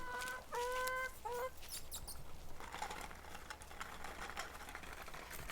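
Hens clucking near a coop on a grassy patch, a few close, tuneful clucks in the first second and a half, then fading into soft outdoor rustling and background noise.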